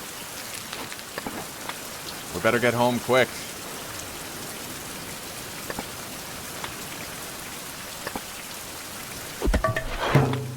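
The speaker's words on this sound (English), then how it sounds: "Hey, it's raining." Steady rain falls in the survival video game Fountain of Youth, a continuous soft hiss of patter throughout, with someone talking briefly over it near the start and again at the end.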